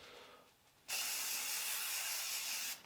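An oil spray can mists cooking oil onto cling film in a kitchen, giving one sustained, fairly close hiss of about two seconds after a quieter moment, with no talking.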